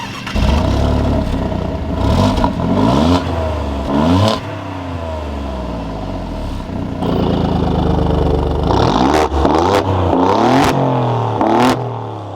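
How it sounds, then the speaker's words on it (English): A tuned 600 HP Alfa Romeo Giulia Quadrifoglio barks through repeated hard revs with its exhaust valve open in dynamic mode, loud rising and falling engine sweeps with turbo whoosh, several blips and short pauses, close and dominant. "that exhaust is insane. When you go to dynamic mode, the exhaust valve opens up and you can hear so much turbo."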